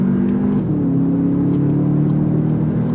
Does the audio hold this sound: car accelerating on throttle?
yes